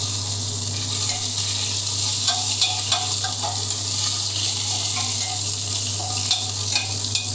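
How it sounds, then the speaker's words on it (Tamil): Curry leaves, bay leaf, cinnamon and fennel seeds frying in hot oil in a pan for a white vegetable kurma: a steady close sizzle with scattered crackles and pops, and no talking. "அது பொரியும் போதே கருவேப்பிலையும் போட்டுடுறேன்."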